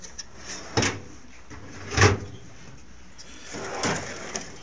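A metal tool drawer in a workshop cart full of pliers and wrenches slides open and shut in several rattling, rumbling pulls, close by with quiet gaps between them.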